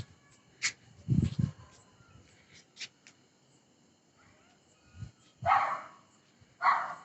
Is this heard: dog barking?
yes